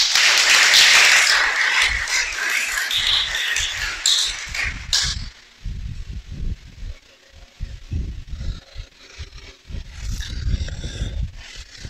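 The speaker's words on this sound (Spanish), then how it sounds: "Dame un aplauso." A church congregation applauds with dense, loud clapping for several seconds, fading into scattered claps and a speaking voice.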